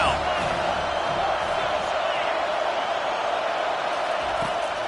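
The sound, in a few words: stadium crowd roaring during football game on third down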